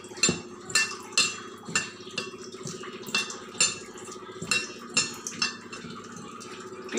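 Flour and oil are stirred together in a bowl for Chinese chicken momo dough. A small spoon clinks and scrapes against the bowl in a steady rhythm of soft, close knocks, with no talking.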